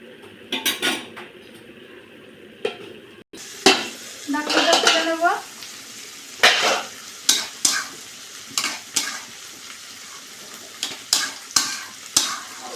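Kochu loti cooks with masoor lentils in a pan, stirred with a spoon in a run of rhythmic scrapes and clinks over a low bubbling sizzle, close and fairly loud.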